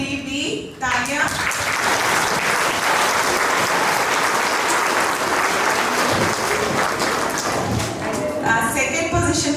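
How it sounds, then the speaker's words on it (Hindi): An audience at a junior school Hindi Diwas elocution competition bursts into loud, sustained applause, the clapping filling the hall for several seconds before fading as a voice resumes. "क्लास 3B, तालियां।"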